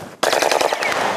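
A rapid burst of gunfire rattles out loud and close during a police dog handlers' demonstration, a string of sharp overlapping shots after a brief quiet moment.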